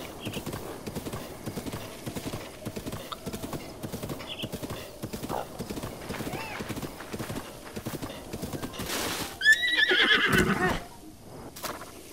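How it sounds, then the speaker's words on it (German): A horse in the Breath of the Wild video game clip-clops along in a steady, rhythmic stream of hoofbeats, then lets out a loud, close neigh near the end. "Das ist mein Pferd."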